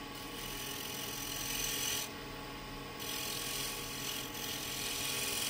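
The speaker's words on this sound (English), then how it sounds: "Now we can improve even that by shear scraping it" A negative rake scraper tilted up on edge shear-scrapes a wooden workpiece, a continuous close rasping drag with brief changes in texture between strokes.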